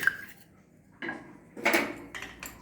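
A spoon scrapes and clinks against a pan while orange juice halwa, thickened and mixed with ghee, is stirred, in three or four separate metallic bursts with quiet gaps between them.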